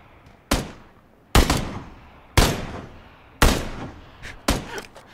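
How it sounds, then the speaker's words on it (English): Sniper fire from the hills in a video game: five or six loud, sharp gunshots spaced about a second apart, each with a short echoing tail, followed by a few quicker fainter cracks, with no voices. "there's a sniper up in those hills shooting at us"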